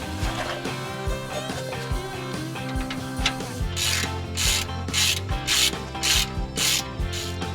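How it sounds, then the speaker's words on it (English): Half-inch ratchet wrench with an 18mm socket snugging brake bolts on a Chevy Express 2500/3500 van, its pawl clicking in rapid bursts of short strokes, close and loud over a steady background hum. "Go ahead and take your 1/2-inch wrench with your 18mm socket on it."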